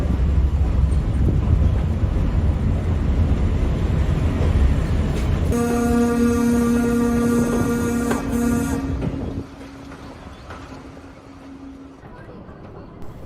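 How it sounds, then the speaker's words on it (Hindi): A train departs from a station in India on a free passenger service, a loud rumbling build with a sustained horn-like tone sounding midway, then the noise eases to a lower steady drone. "उसके बाद वो हरी झंडी दिखाएगा, तभी ट्रेन आगे चलती है।"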